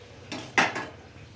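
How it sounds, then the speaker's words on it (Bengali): A cooking pot lid lifted off after simmering a fish curry with flat beans and potatoes, giving two or three close metallic clinks and scrapes in quick succession against a quiet kitchen background. "আমি এখন ঢাকনাটা খুলে তোমাদের দেখাচ্ছি"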